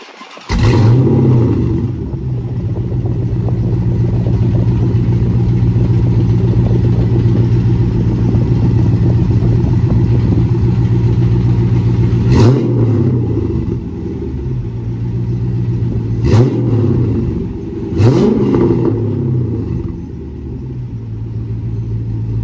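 A Dodge Charger SRT8 V8 engine cranks and starts, then settles into a deep, steady rumble, with several sharp revs rising and falling partway through.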